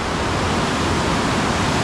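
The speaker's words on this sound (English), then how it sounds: "You can see the rapids rolling on down the Youghiogheny River." The waterfall and river rapids at Swallow Falls on the Youghiogheny River roar in a loud, steady wash of rushing water that fills the whole moment without variation.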